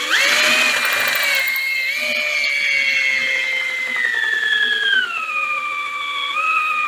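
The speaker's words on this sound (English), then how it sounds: "you'll hear the drill start to slow down" A power drill bores through a pipe for raised bed construction, a loud continuous whine that gradually drops in pitch as the motor slows under load.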